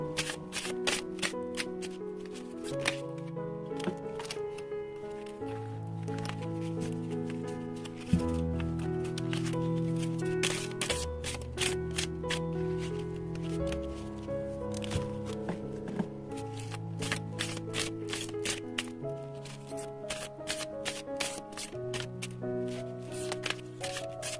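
Oracle tarot cards are shuffled by hand in a long run of close, crisp riffling flutters, with soft instrumental music playing underneath.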